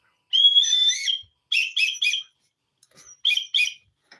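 High, clear whistles: one long warbling note, then a run of short chirpy bursts with brief pauses between them, close and fairly loud.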